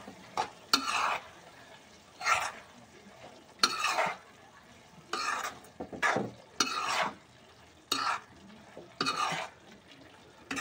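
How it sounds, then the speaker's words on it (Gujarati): A spoon stirs spicy egg curry in a pan after fresh coriander is added, making close scraping sweeps in short separate bursts, about eight strokes with quiet gaps between them. "હવે આપણે એને હલાવી નાખીશું."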